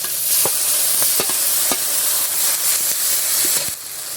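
Spices sizzle steadily in hot oil for a thin fish broth with battered fish, vegetables and eggplant, a dense continuous hiss broken by several sharp stirring clicks, close and loud with no talking.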